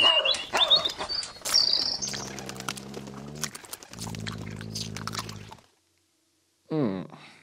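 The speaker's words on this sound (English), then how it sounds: "a layer of a dog barking, a dog growling, and a bird flapping its wings and just tweeting" Layered animal sounds of a dog attacking a bird: bright bird chirps and wing fluttering at first, then rough, sustained dog growls and barks in two long stretches, a brief pause, and a final snarl.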